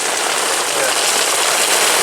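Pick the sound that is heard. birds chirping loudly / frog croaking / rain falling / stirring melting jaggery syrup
rain falling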